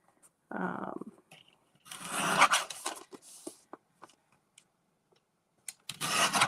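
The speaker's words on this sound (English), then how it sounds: "This is a very old Tonic trimmer." An old Tonic Studios paper trimmer cuts paper, with a short scraping slide, then a longer rough rasping pass and light taps of handling before another scraping cut at the end, close and fairly quiet.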